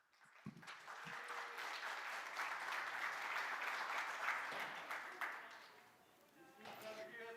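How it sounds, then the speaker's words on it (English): Conference audience at EuroDIG 2022 applauds the speakers, clapping swelling in after a few opening sounds, holding strong for several seconds, then fading as a voice starts to talk. "Could we have a round of applause for our great speakers,"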